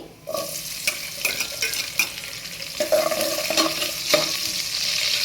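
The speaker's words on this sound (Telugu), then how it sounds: "జీలకర్ర ఆనియన్స్ అనేది కొంచెం వేగాలి" Cumin seeds and onions frying in about three spoons of oil in a pan, a steady sizzle with repeated stirring scrapes and clinks throughout, close and fairly loud, with no talk.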